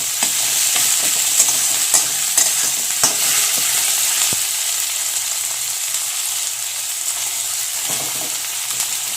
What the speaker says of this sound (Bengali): তো দেখো, পেঁয়াজগুলো কিন্তু ভাজা হয়ে গেছে। এরপর আমি টমেটোগুলো দিয়ে দেবো।